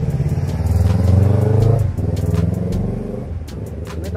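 A motorcycle passes on a nearby road, its engine rumble swelling loud and steady for a couple of seconds and then easing off as it moves away.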